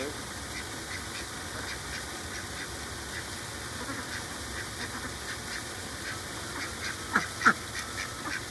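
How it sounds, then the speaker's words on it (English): Mallard ducks, including ducklings, quack softly in short bursts over a continuous outdoor hum, with two louder calls near the end and faint voices in the background. "Here comes the baby ducks right behind them"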